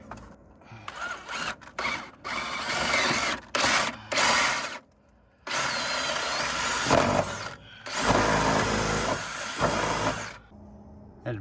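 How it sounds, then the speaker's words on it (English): Power drill boring a pilot hole while building an aquarium screen enclosure for fish breeding, in several short bursts of whirring and grinding that stop and restart, then longer sustained runs, close and fairly loud. "And then I'll go into my drill. Get me a pilot hole in here."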